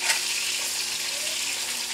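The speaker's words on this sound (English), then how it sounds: "So right now I'm frying this, and it's turning to be a nice color." Flour-coated chicken frying in a stainless steel pot for Spanish chicken, a steady, loud, close sizzle and crackle of hot oil that continues without pause.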